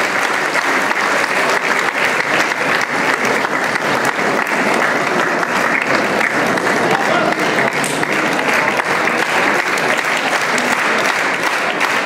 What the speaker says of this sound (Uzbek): Olqishlar bilan sizlar.